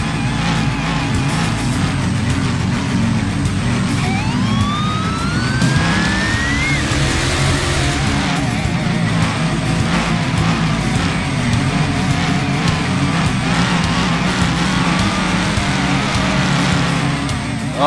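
A mud truck's revving engine roars continuously with fluctuating pitch and tire noise as it slides in Rigs of Rods game audio, loud throughout.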